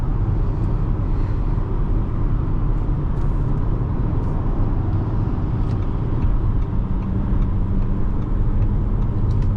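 A steady, low engine rumble from inside a 2025 Audi Q5 at about half throttle, smooth and continuous with road noise, rising only slightly in strength.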